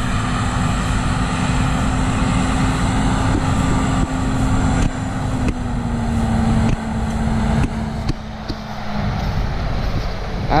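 A Claas Lexion combine harvester and a Case Magnum tractor running on a farm, giving a loud, steady engine drone with a low hum throughout and small knocks and shifts near the end.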